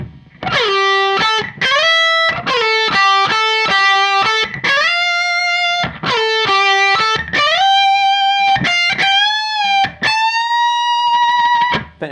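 Distorted electric guitar slowly plays a riff, clusters of picked notes separated by brief gaps, with sustained bent notes toward the end, loud and alone.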